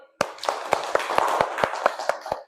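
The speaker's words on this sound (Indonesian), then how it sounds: "Tepuk tangan dulu untuk Malik." A class of students claps for a classmate, a short run of sharp, evenly spaced hand claps in a classroom, close and fairly loud.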